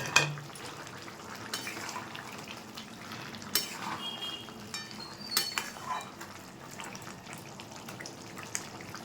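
Morola fish going into a pot of simmering curry with flat beans and potatoes, giving a steady low bubbling hiss with scattered clinks of a utensil against the pot and a few soft splashes.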